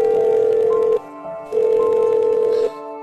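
Phone call being placed on a landline or mobile: two loud, steady electronic ringing tones with a short gap between them, heard alone.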